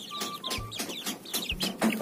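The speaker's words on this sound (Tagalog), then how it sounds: "Yung ganyang mga alagang manok." Backyard domestic chickens cluck near and clear in a rural yard beside a hut, repeated short clucks in quick succession, with no talking.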